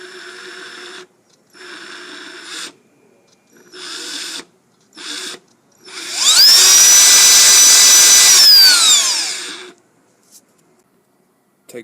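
An electric power tool, just oiled on its armature shaft during servicing, whines up loudly and steadily for a few seconds with a rising then falling pitch, following several short bursts of an unrelated hum.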